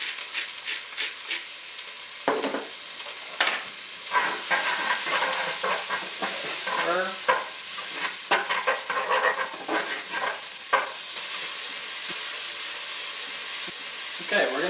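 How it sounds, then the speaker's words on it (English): Carrot, celery, onion and garlic sautéing in a pan for minestrone make a soft, steady sizzle, with intermittent scrapes and clinks of stirring and a voice speaking over the cooking in places. "we're going to saute this until we just start to see just a little bit of color develop on our vegetables"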